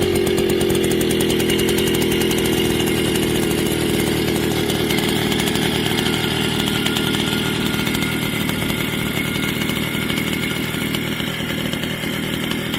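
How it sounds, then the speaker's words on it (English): A Soviet Verhovina-5 moped's small engine runs with a loud, buzzing, chainsaw-like drone that sweeps slightly in pitch at first, then holds steady and close throughout. "let's listen to the sound of moped Verhovina-5."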